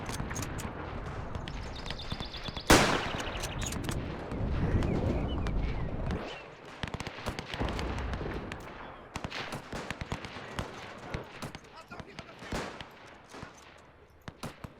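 Rifle fire crackles across a WW1 battlefield in the strategy video game Between Empires, with a loud sharp shot early, scattered irregular cracks and rumbling bursts continuing throughout at varying distances.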